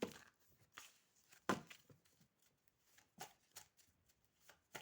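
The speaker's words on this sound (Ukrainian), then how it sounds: "Хтось переживає, карти летять." Tarot cards are shuffled and flicked in a series of quick, crisp riffles and snaps, some louder bursts standing out among softer rustles.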